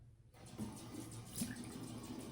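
Soft running water splashes and trickles close by onto hair, a faint continuous pour with small irregular spatters.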